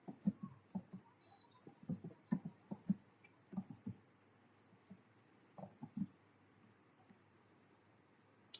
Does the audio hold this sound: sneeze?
no